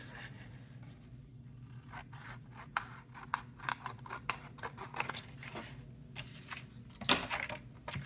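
Scissors snip through paper while cutting a pocket for a handmade note holder, giving a run of short, crisp rasping cuts in quick irregular bursts, close and moderately loud, with no talk.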